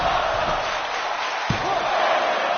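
An arena crowd in the WWE 2K23 wrestling video game roars in a steady, loud wash of cheering through a match, with a single sharp impact thud partway through.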